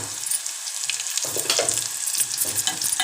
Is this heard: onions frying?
yes